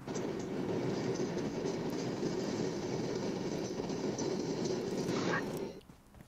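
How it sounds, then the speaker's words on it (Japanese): A train passes close by outside, a steady rolling rumble with faint clatter that holds for about five seconds and then cuts off abruptly. "電車やない。 あ、電車か。"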